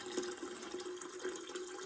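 Water runs into the plumbing of a Pentair IntelliFlo VS-3050 pool pump during installation, a faint, steady hissing trickle with small gurgling surges.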